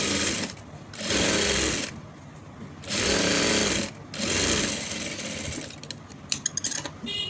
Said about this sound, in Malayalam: ഇനി നമുക്ക് അടുത്ത സൈഡിലും ഇതുപോലെ സ്റ്റിച്ച് ചെയ്ത് കൊടുക്കാം